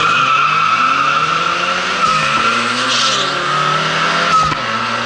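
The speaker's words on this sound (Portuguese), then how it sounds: "o carro ainda dá a escorregada dele para ir" A turbocharged Chevette launches from around 2,000 RPM, its tires squealing and skidding loudly under a high-revving engine roar that holds for several seconds.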